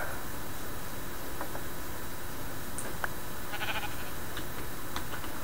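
A sheep in the Minecraft video game bleats several times in short, separate calls over a steady hiss of background noise, with no talk.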